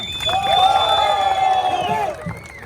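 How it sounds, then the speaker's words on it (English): Crowd cheering and whooping for a national drag racing champion at a motorbike club new year ride gathering, a loud sustained burst of voices and shouts that fades near the end. "And everyone cheer!"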